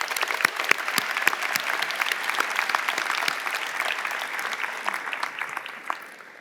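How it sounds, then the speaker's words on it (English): Steady applause from the audience at a university convocation ceremony for the Faculty of Arts and Social Sciences and Faculty of Science, crisp individual claps blending into a full round that tapers off at the end. "Let's give them a round of applause."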